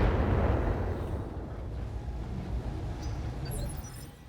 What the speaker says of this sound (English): I expected stray shots here